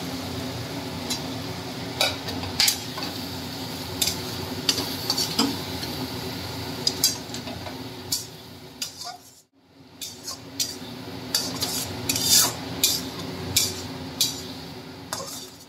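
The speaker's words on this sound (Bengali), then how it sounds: "ভাজা আলুগুলো দিয়ে একটু কষিয়ে নিচ্ছি।" Fried potatoes stirred into a katla fish kalia curry in a wok, with repeated scraping and clinking of the spoon against metal over a steady background sizzle, close and without talk.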